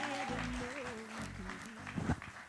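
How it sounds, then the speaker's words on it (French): Clapping from a studio audience on a Kinshasa television talk show, mixed under a host's voice and a tonal musical line, with a louder burst of claps near the end. "On applaudit encore, hein"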